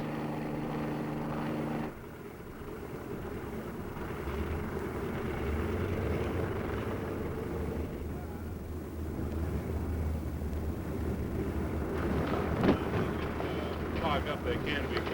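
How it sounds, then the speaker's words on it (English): A steady low engine drone of military training planes and helicopters overhead, with wind rushing across the microphone and a rising whine near the end. "the sky is dotted with training planes and the increasingly popular helicopters."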